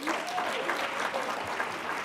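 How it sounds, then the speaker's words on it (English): An audience at a women's economic assembly claps for the co-chairs in a short, dense burst, with a voice talking over part of it. "can you applaud them?"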